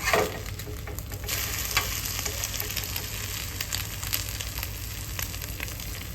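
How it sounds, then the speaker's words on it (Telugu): An omelette, already flipped once, fries in a pan with a continuous, even hiss of sizzling oil at close range and faint stirring-like crackles throughout, with no talking. "ఇప్పుడైతే ఆమ్లెట్ అయితే వేసుకుంటున్నాను చూడండి ఆల్రెడీ ఒకవైపు తిప్పేసాను"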